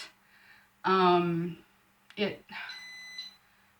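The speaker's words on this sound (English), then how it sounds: "that was my wheelchair beeping, turning off." An electric wheelchair gives a short electronic beep pattern as it turns off, a couple of steady high tones near the end, following a burst of talk.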